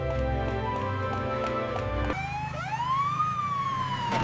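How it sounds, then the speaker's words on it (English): A loud siren wails close by, first in a rapid pulsing pattern, then switching to a long rising and falling tone. "That's an ambulance, James"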